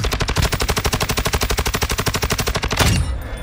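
Rapid automatic gunfire from an AUG assault rifle in Call of Duty Warzone 2.0, a long sustained burst of evenly spaced shots, loud and close, stopping abruptly near the end with a brief rumble.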